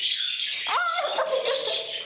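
Several birds chirp and tweet close by, with a brief descending call amid steady, busy twittering.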